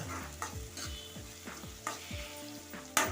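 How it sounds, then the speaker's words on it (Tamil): Curry leaves and fennel seeds sautéing in hot oil in a pan for a prawn curry, a soft continuous sizzle broken by repeated scraping stirs of a spatula, with no talk. "மூணுத்தையும் சேர்த்து நல்லா வதக்கி எடுத்துங்க"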